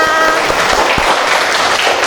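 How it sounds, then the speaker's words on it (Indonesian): A group of people in a morning class or school gathering clap their hands in a loud, dense burst of applause that continues steadily and close, with a faint voice underneath. "tepuk tangan untuk kita semuanya"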